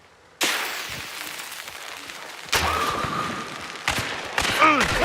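Gunfire in a zombie shooter game comes as a few sharp, loud bursts with ringing tails, one near the start and more toward the end, spaced apart.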